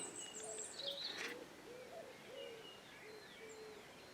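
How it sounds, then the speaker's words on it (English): A cuckoo calls beside a stagnant stretch of river near Rye, its soft repeated hoots faint and distant while other birds chirp higher up. "That was a cuckoo."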